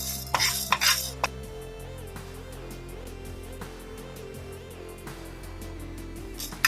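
A spoon scrapes and clinks in a pan as chana dal and urad dal dry-fry without oil for a pineapple gravy: a few sharp metallic knocks at first, then steady quiet stirring, with no talking.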